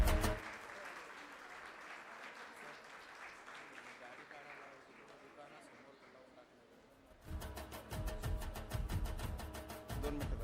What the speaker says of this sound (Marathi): एक जोरात सर्वांनी मनापासून टाळ्या वाजवल्या तर आनंदच होईल